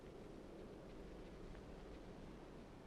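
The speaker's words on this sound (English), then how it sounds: "The gentle wind sound does change sometimes" Gentle wind ambience from the video game Limbo, a faint, steady airy hush with soft low rumble and no distinct events, whisper-quiet throughout.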